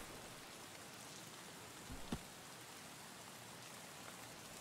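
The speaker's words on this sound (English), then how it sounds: "I hate the rain in this game." Rain in the video game Escape From Tarkov, in a woods setting: a faint, steady hiss of falling rain with a brief soft thud near the middle.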